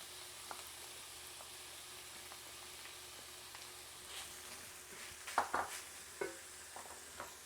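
Onions added to a pan of browning ground beef, a soft continuous sizzle with a few clinks and scrapes of a utensil near the end, fairly quiet and close.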